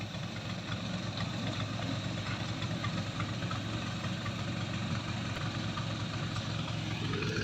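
A six-wheel, 6-ton dump truck idles with a Jiffy brake, its diesel engine giving a steady, dense rumble with a slight knocking texture. It runs continuously and fairly close, with no voices.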